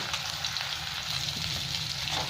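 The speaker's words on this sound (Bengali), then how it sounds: "এবার আমি মাছটাকে ভালো করে ভেজে নেব।" Pieces of catla fish fry in hot oil for a Bengali mustard fish dish, giving a steady close-up sizzle and crackle that holds at an even level with no talking.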